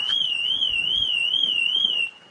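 Ferrari 812 alarm blaring after a long road trip, a loud, continuous warbling electronic siren that wavers steadily up and down, then cuts off abruptly near the end.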